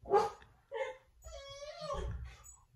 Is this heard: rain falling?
no